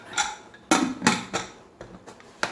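Metal lid set down on a cooker pot while chicken roast is prepared, a few sharp clanks and rattles spaced apart, close and clear.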